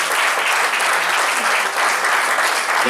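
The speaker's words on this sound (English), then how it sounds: "give me a round of applause" A large audience applauds at an awards celebration, dense and sustained clapping filling the room evenly without pause.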